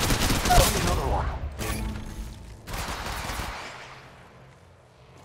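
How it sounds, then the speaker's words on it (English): Rapid bursts of gunfire in the Apex Legends video game on Kings Canyon, loud and dense at first, then a second volley before the shots trail off into quieter rumbling and mechanical clicks. "Getting shot at."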